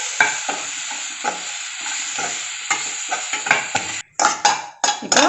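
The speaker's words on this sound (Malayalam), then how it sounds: "ആ സവാള ചെറുതായിട്ട് അരിഞ്ഞു വെച്ചിട്ട് ഇതിനെ നന്നായിട്ട് എണ്ണ ഒഴിച്ച് ഇത്തിരി ഉപ്പ് ഇട്ടിട്ട് ഫ്രൈ ചെയ്ത്" Chopped onions fry in oil with salt for Burma Atho, a steady sizzle running throughout with repeated stirring scrapes and clatters of a utensil against the pan, close and fairly loud, no voices.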